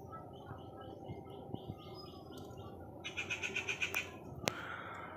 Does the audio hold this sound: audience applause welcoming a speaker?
no